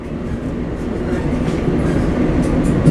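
Steady rumble of a train departing Hanley Station, with faint rhythmic clatter of wheels on track building slightly over a few seconds.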